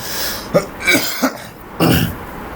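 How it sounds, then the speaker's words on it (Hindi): Several short, close coughs and throat-clearing sounds in quick succession, a sharp hack followed by rougher, longer coughs. "थोड़ा बहुत खांसी हो गई है मुझे सॉरी।"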